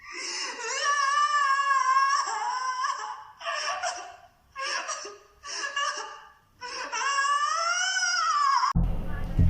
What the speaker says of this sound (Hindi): बहुत दर्द में और वो रो रही है।